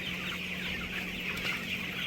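Broiler chickens clucking together in a crowded poultry shed, a dense continuous chorus of soft clucks over a low steady hum, no voices.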